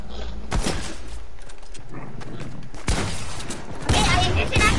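Gunfire in a video game comes as loud, close bursts, one near the start, one around the middle and a louder one near the end, with quieter game noise in between and no talk.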